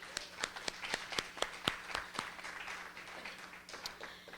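A burst of scattered hand claps from an awards ceremony audience, sharp and irregular, tapering off after a few seconds against a low background hum.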